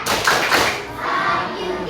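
A primary school class at SDN 2 Karyajaya claps along in the rhythmic 'tepuk sayang' chant, a dense, loud wash of many hands and children's voices blending together without clear gaps.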